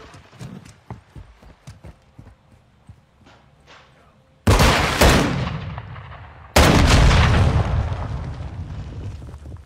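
Two heavy, booming gunshot blasts from a video game, each a sudden loud burst with a long decaying tail, following a stretch of quieter clattering game sounds.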